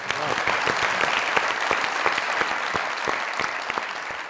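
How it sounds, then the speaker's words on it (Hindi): Steady applause from a hall audience at a stage show, many hands clapping at once with sharp individual claps standing out, loud and continuous throughout. "तालियां"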